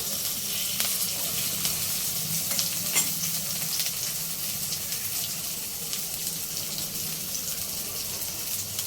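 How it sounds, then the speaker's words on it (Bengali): Tomatoes fry in oil in a wok with a steady, dense sizzle and crackle that runs throughout, plus a few sharp pops and faint watery clinks, loud and close, no talking. "তেলে দিয়ে ভালো করে একটু লাল করে ভেজে নিতে হবে টমেটোগুলো"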